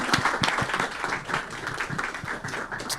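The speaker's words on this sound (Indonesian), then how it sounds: "Boleh tepuk tangan buat Mas ini" Studio audience applause during an Indonesian family talk show, a steady wash of clapping at moderate level with a few sharper individual claps, running the whole time.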